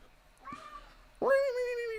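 A cat meows twice from nearby, a short cry followed by a louder, longer drawn-out yowl, with quiet room noise between them.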